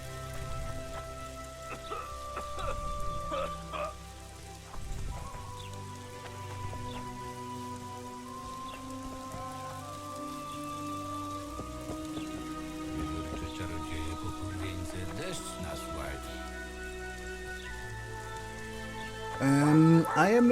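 Rain falls steadily in the video game The Witcher 2: Assassins of Kings, a soft continuous patter under quiet tonal game music, ending with a brief louder rustle.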